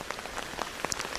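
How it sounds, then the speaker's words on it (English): Rain falling on a house framing job site, a faint, steady patter of scattered drops tapping nearby surfaces over a soft wash of rainfall, with no voices. "Day ended in rain."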